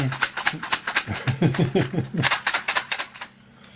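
A reassembled wireless USB keyboard with sunken keys is pressed in a rapid, uneven run of sharp plastic clacks, close and loud, for about three seconds before stopping.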